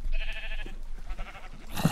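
Sheep bleat in a Minecraft game, a short wavering call near the start followed by more blocky game sounds, with no talking.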